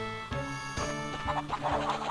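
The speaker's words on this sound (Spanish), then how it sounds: "Y la gallina huye." A hen clucks and squawks in quick, fowl-like bursts as it runs off in the video game Crash Bandicoot: Warped, with game music and effects underneath.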